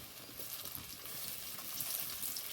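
Chopped tomato hits a hot frying pan for a Bengali rohu fish curry with taro, giving a steady, fairly loud broadband sizzle that swells slightly as the pieces settle, with no voices.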